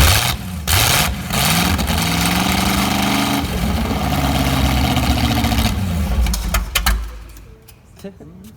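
A 60-year-old GM Corvette V8 engine runs loud and close for about seven seconds, a rough, throbbing idle with surging revs, then cuts off and leaves near silence.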